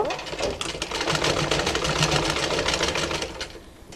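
A sewing machine runs a steady, close stitch along a fold on a raglan-sleeve umbrella baby frock, its rapid mechanical chatter continuing for several seconds before easing off.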